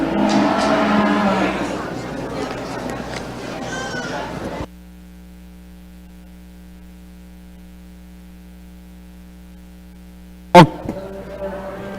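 Cattle moo and low at a cattle show, loud and close at first with crowd noise and a voice, then a near-silent stretch broken by a sudden sharp sound.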